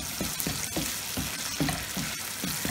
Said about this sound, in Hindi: हमारा मसाला बहुत अच्छी तरीके से भुन गया है